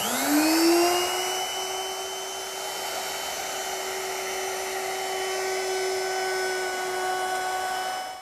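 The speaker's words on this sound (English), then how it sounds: "Now I'm going to round over the bottom edge of my top with a 1/4 inch rounding over bit." A router fitted with a 1/4 inch round-over bit shapes the bottom edge of a wooden tabletop, spinning up quickly into a loud, steady high-pitched whine that holds for several seconds before easing off at the end.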